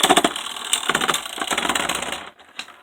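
Two hand-spun Beyblade spinning tops, Geist Fafnir and Orbeegis, clash in a stadium, making a close, fast, dense rattling and clicking that runs steadily, then cuts off near the end with one last tap.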